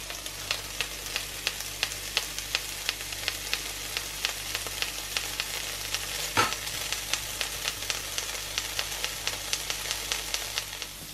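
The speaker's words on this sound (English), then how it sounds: "You do love the sizzle of a bacon, don't you?" Bacon, home-cured, sizzles and crackles steadily in a frying pan, with regular stirring or scraping ticks and one louder clatter partway through, close and continuous with no talking.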